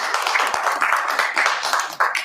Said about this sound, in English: Rounds of applause here.